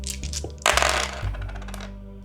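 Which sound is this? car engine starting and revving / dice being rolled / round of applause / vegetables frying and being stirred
dice being rolled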